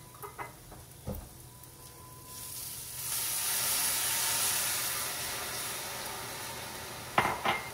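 Vodka pasta sauce simmers and reduces in a pan, giving a steady hissing sizzle that swells after a few seconds, with a couple of sharp utensil knocks near the start and end.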